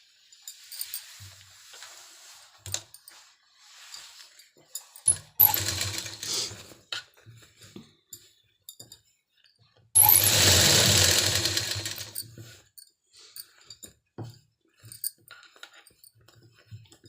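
Sewing machine stitching a seam along the neckline margin of a woolen suit shirt, with two clear bursts of steady whirring, one short and one longer, among quieter handling clicks and rustles.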